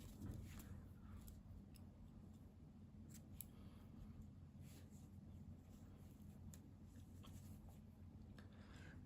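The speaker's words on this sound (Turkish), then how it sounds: "İpliği kesiyorum arkadaşlar." Scissors snip crochet yarn while a baby vest motif is worked, a few faint, sharp clicking cuts over a low steady background, quiet and close, with no talking.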